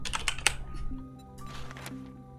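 Quick bursts of computer keyboard typing, several close clicking keystrokes at the start and more midway, over a faint steady hum.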